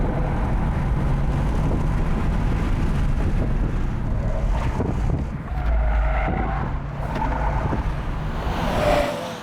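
A car corners through a slalom on a race track, its engine droning loudly and continuously with wind buffeting, and the pitch shifting as it weaves through the turns.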